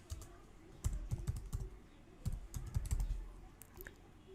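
Quick bursts of keystrokes on a computer keyboard as a domain name is typed, clustered clicks with short pauses between, close and fairly quiet.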